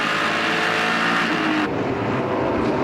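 Stock race cars roar down the front stretch at Sun Valley Speedway during the A&W 300, a dense, loud engine drone that shifts as they pass, with no one talking.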